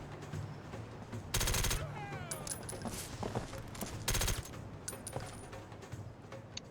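Two short bursts of automatic gunfire ring out in the SOCOM US Navy Seals 3 video game, sharp and loud, separated by a few seconds of quieter in-game ambience and small clinking effects.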